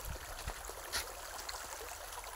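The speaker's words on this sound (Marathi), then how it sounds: "एवढं पाणी येतं. 2 मोटरीचं पाणी आहे." Water from two running pump motors pours and streams steadily into a field channel on a farm, a continuous soft gushing trickle with a brief louder splash near the middle.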